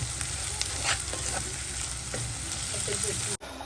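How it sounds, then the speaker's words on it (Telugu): Eggplant pieces stirred while frying in oil, a steady sizzle with scattered scrapes and clicks of the spoon, close by, cutting off abruptly near the end. "వంకాయలు వేసి వెళ్ళి జర కలుపుతున్నా"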